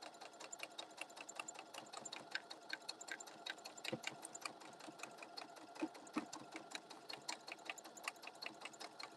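A sewing machine stitches fabric for bags in a steady, quick mechanical rhythm that runs throughout. It is fairly quiet but close, with faint clicks of the machine mixed in.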